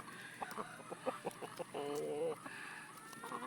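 Pet chickens cluck in quick, choppy bursts while pecking at banana, with one short drawn-out squawk in the middle, heard fairly faintly against a steady background hiss.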